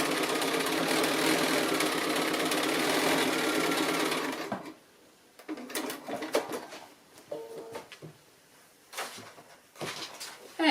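A sewing machine with dual feed stitches through spongy quilt-as-you-go blocks, whirring loud and steady for about four seconds before stopping, followed by quieter handling clatter and short bursts of movement.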